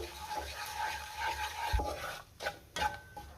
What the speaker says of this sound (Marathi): बेसन पीठ आपल्याला थोडंसं तेलावरती परतून घ्यायचे, थोडा रंग बदलेपर्यंत